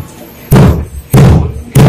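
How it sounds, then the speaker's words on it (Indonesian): A gavel strikes three loud, close wooden knocks at an even pace, closing a mock session of the BPUPK held by a high school class. "kita akhiri sampai di sini dengan ketukan palu 3 kali"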